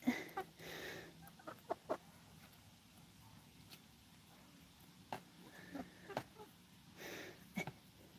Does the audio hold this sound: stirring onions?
no